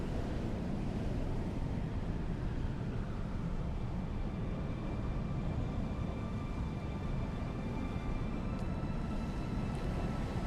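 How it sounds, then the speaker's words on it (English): Sandstorm wind roars on Arrakis in Dune Awakening, a steady, dense rush of low noise that holds unbroken for about ten seconds with no voices. "This storm is pretty strong, huh?"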